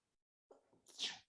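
A single sharp sneeze bursts out close to the microphone after a brief quiet intake of breath.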